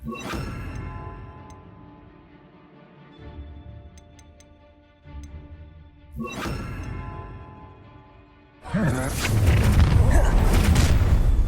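Spell blasts from a Hogwarts Legacy duel against Ashwinders: a booming burst near the middle, then a loud, sustained crashing explosion with debris filling the final seconds, over quieter magical ambience and tinkling effects.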